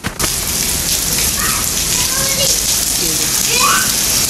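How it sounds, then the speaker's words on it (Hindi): Heavy rain and hail pelt down outside a house in a dense, loud, continuous patter, while voices, some of them children's, talk faintly over it. "और बारिश ऐसी बारिश कि एकदम से आवाज़ इतनी तेज़ से आई है और ये ओले पड़ रहे हैं।"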